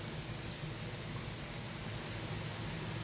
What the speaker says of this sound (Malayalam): ചെടികൾക്കും പുല്ലിനൊക്കെ നല്ല മഴ വേണം. അത് കിട്ടിക്കൊണ്ടിരിക്കുകയാണ്.